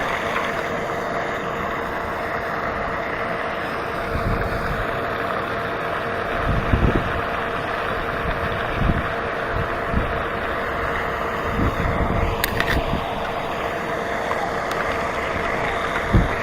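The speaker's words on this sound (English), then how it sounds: "This wind is just relentless. It just never stops blowing." Strong, relentless wind roars steadily outdoors on a fall bass-fishing outing, a continuous broadband rush with occasional gusty thumps against the microphone and no talking.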